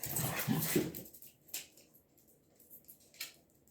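A puppy whimpers close by in a few short, soft whines, the strongest at the start, then fainter scattered squeaks with quiet gaps between them.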